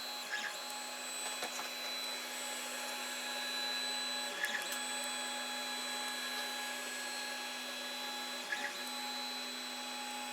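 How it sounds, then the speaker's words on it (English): A Creality Ender 5 Plus 3D printer's stepper motor drives the carriage back and forth through its belts, giving a steady whine and hum with faint periodic clicks at each change of direction, heard alone. "moving this carriage backwards and forwards on this stepper, so that stepper is controlling both belts through like a bar"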